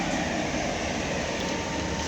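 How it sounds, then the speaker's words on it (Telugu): Steady broadband rumble of the MGR Chennai Superfast Express, an LHB-coach train, pulling away, heard from inside a carriage as a continuous loud roll with no voices. "మన ట్రైన్ కూడా బయలుదేరుతుంది"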